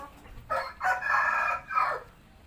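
A mother hen that has just hatched her eggs gives a few loud, close, drawn-out clucking calls in quick succession, with no talking.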